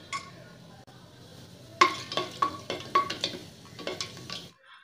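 Whole spices for Chettinad mutton curry (marathi moggu, cardamom, star anise and a small cinnamon stick) drop into hot oil, with a soft fry followed by a series of sharp clinks and crackles from the pan.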